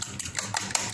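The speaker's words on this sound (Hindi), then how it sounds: "मैंने अब लिया है एक और बाउल और मैं उसमें डालूंगी 1 अंडा और इसको मिक्स कर लूंगी" An egg being whisked in a bowl, heard as quick, light clinking taps of utensil against the bowl in an uneven rhythm, close and fairly quiet.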